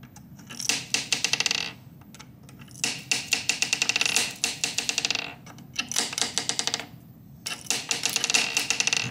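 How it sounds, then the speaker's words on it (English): Plastic Connect Four pieces drop into a laser-cut, blue-painted wooden board, making bursts of quick bouncy clicks and rattles as each piece settles, repeated in several close groups. "The pieces went in nicely and they did make those nice bouncy clicky sounds."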